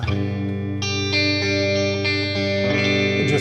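An 80s-style clean electric guitar tone through an AmpliTube 5 Mesa Boogie Transatlantic cabinet, with sustained chords ringing under a shimmering chorus effect and changing several times, loud and alone.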